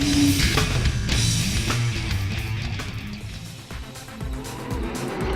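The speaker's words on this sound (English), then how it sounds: "Cars on a formation lap here for race number 2 of the weekend." V8 touring race cars rumble loudly on a formation lap at a circuit, a continuous dense engine roar with shifting tones and occasional tire noise throughout.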